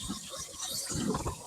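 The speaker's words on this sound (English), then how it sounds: "Go ahead and rinse that down." Water rinses down a kitchen sink garbage disposal, a faint, steady run of splashing and gurgling liquid that goes on throughout.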